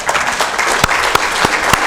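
An audience at a presentation breaking into applause, a short burst of brisk clapping with a few sharp, distinct claps standing out near the microphone.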